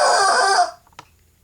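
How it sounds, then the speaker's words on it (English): An agitated chicken gives a loud, squawking cluck-crow burst that cuts off abruptly, followed by a short faint cluck, close to the listener. "Face the camera, chicken."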